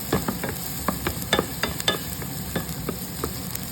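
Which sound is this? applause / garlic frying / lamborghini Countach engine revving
garlic frying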